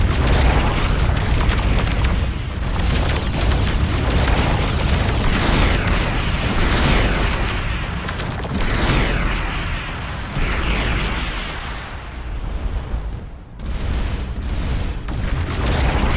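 Missiles explode one after another in the space game Starcom: Unknown Space, giving dense, rumbling booms and bursts that overlap into a loud, continuous barrage with a brief dip near the end.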